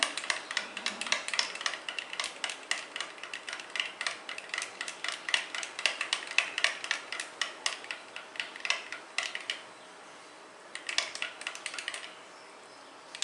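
A yeast, milk and sugar mixture is stirred briskly, making rapid, irregular clinking taps against the container that run on for several seconds, pause briefly, then resume.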